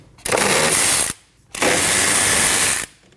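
Two quick bursts of ratcheting on 14mm caliper bracket bolts on a 2003-2008 Subaru Forester, a close, loud clicking pawl sound with a short pause between the strokes.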